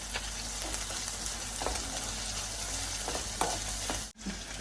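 Onions with salt and turmeric frying in oil, stirred in the pan: a continuous close sizzle broken by a few scraping strokes of the spoon, then a brief dropout near the end.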